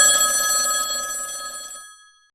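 A telephone bell rings loudly and alone for a couple of seconds, its bright metallic tone fading out toward the end.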